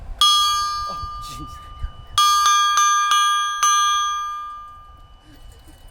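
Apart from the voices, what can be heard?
bell made from scuba tank ringing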